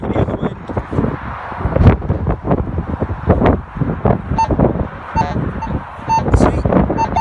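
Wind buffets a microphone outdoors on farmland, producing loud, uneven gusty rumbles and thumps that surge and fade throughout.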